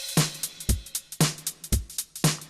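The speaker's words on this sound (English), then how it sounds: "we also have double time swing, which is closer to like how old drum machines would work" Drum machine beat in double-time swing, old MPC style: kicks and snares spaced unevenly under a busy hi-hat pattern, steady and clear with no voices.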